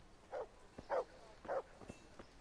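A dog in Kingdom Come Deliverance gives three short, evenly spaced barks at moderate distance, with a low background hum and no speech.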